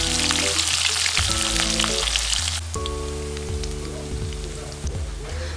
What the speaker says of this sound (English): Then I added the onions and cooked them until they turned soft and